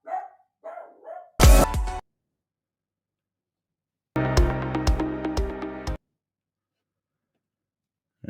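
A dog barks in a few sharp bursts, loud and close, with long silent gaps between them and nobody speaking.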